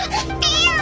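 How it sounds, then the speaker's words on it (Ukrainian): A single close cat meow, drawn out and rising slightly, heard against a busy background. "Це кіт. Його треба прогнати,"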